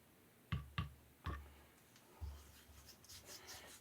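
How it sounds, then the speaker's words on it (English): A Norton Crystolon/India combination sharpening stone has its surface cleaned: a few short, sharp rubbing scrapes, spaced irregularly, then softer, fainter rasping toward the end, close and quiet with no talk. "I'm cleaning the surface of the stone"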